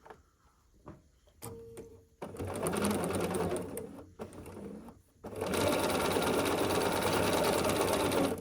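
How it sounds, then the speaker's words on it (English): A sewing machine stitches quilt block pieces, a half square triangle and a background square, in two bursts of fast, steady mechanical whirring, close by, separated by short pauses with small clicks. "take a half square triangle and a background square and sew them together"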